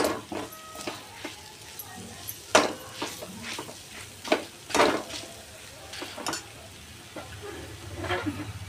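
Pav bhaji vegetables sautéing in oil in a home kitchen: a soft, steady sizzle broken by irregular scraping and clinking strokes of a spoon against the pan, fairly close and quiet.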